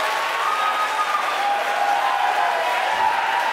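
SpaceX team members cheering and applauding in a control room after confirmation of Starlink satellite deployment, a steady dense wash of clapping and crowd noise throughout, fairly loud and continuous with no clear speech.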